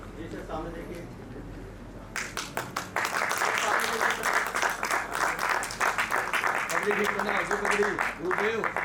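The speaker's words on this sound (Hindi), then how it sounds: "जोरदार तालियों से अनवरत तालियों की गड़गड़ाहट बजती रहे।" A large audience bursts into sustained, dense applause that keeps going without a break, coming in after a stretch of speech, with a voice heard again under the clapping near the end.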